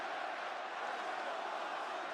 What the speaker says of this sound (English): the crowd's coming alive here. It's unlocked. Split crowd.